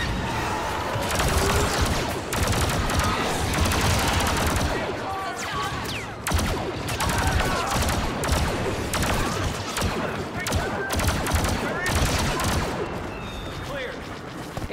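Blaster fire crackles in a Star Wars Battlefront II battle, rapid repeated shots and heavy bursts layered almost nonstop over a loud combat din, with voices talking through parts of it.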